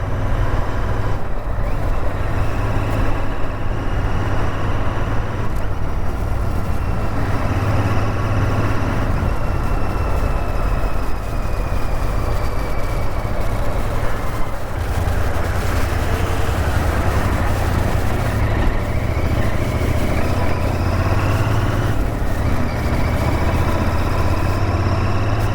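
A Royal Enfield Interceptor 650 being ridden on the road, its twin-cylinder engine droning loudly and steadily with wind rush, the pitch rising and falling through several pulls, no speech.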